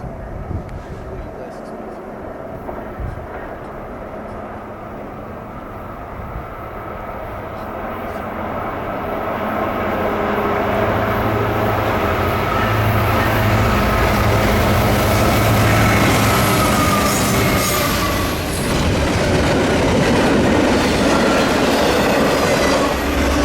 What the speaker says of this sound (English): The train jump-scared us out of thin air when we were least expecting it